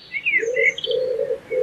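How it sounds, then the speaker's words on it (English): A jay gives a short bird call: a few clear tonal notes with higher chirps above, brief and close, with no voices. "J is for jay."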